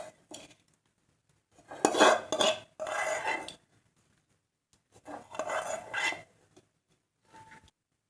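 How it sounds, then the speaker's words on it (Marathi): A spoon stirs a hot oil tempering of fenugreek seeds and cumin into a homemade mixed raw-vegetable pickle, giving several separate bursts of scraping and clinking in a dish with quiet pauses between them and no voices. "आपण आता लोणच्यामध्ये फोडणी टाकून घेऊ"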